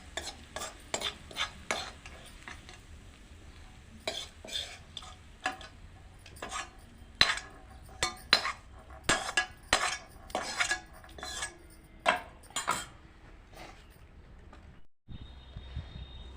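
A metal spoon scrapes and clinks repeatedly against a pan in irregular bursts as fried onions are transferred into a bowl, close and fairly sharp, then stops near the end.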